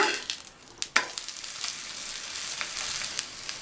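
Moong dal roti frying in a little oil on a pan gives a steady, close crackling sizzle, with a few sharper pops and scrapes near the start and no voices.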